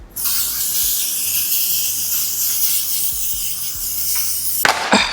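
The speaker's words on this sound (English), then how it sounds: "For finishing spray, I'm gonna go into our trusty Sopro Seal It." Setting Spray Seal It makeup finishing spray mists from a pump bottle in one long, steady, close hiss lasting several seconds, followed by a couple of short puffs near the end.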